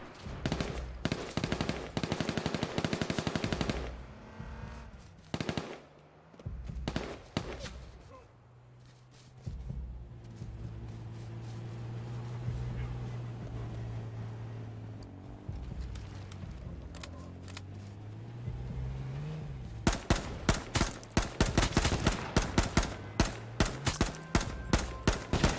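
Rapid automatic gunfire from the video game H1Z1, dense bursts and fusillades at the start and again near the end, with quieter stretches between and voices talking over parts of it.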